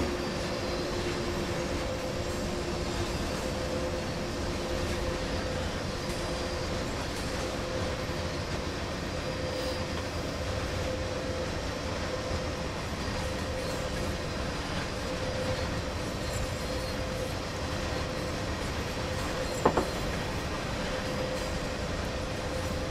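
A DB Class 185.2 electric locomotive hauling a fast freight train in a train simulator video game rumbles steadily throughout, a continuous low mechanical roar with a faint tonal hum and one brief clank near the end.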